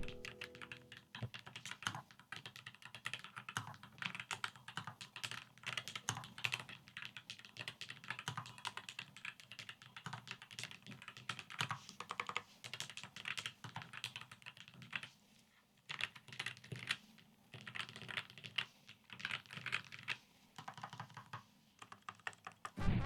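Mechanical switches on a carbon fiber keyboard clatter in quick, uneven bursts of typing, fairly quiet and close, with short pauses between flurries of keystrokes.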